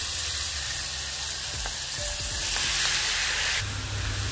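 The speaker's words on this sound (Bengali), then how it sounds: "তেল গরম হয়ে গেছে, এবার পনিরটা আমি দিয়ে দেবো" Paneer cubes frying in hot mustard oil or butter, a steady close sizzle with occasional stirring clinks, continuous and moderately loud with no talk.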